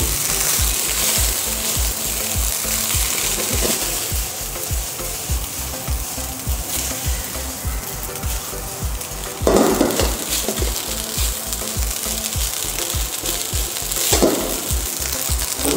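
Cooked rice frying over medium heat in a pan, a continuous loud sizzle with steady rhythmic scraping and stirring strokes and a couple of sharper clanks, close up with no talk.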